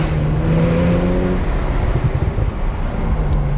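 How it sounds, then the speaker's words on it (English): A Porsche 911 Turbo S accelerates hard on a twisty mountain road, a loud, steady engine roar with a rising whine and rushing turbo whoosh heard from inside the car, no talk. "those turbos. You can hear them so loud too."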